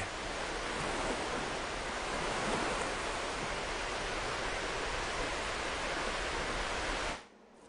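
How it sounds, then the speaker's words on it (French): Choppy canal water churned by a storm, a loud, dense, continuous rushing wash of waves and wind that holds steady, then drops away abruptly near the end. "Le canal est beaucoup trop agité."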